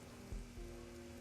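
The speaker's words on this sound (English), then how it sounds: "Rain drizzles." Light drizzle falls in the Shadowrun: Hong Kong video game, a faint, steady hiss of rain over a low ambient hum, with a couple of soft dull thumps near the start.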